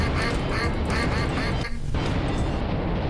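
Loud, constant duck quacks in the duck shooting minigame of the video game Suicide Guy, played with a flare gun, layered with booming game effects and a brief dip near the middle.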